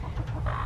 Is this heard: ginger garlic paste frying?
no